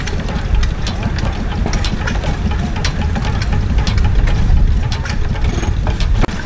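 Antique gas engine running at the Berryville, Virginia steam and gas engine show, a close, steady mechanical chugging with rapid clicking and ticking over a low rumble.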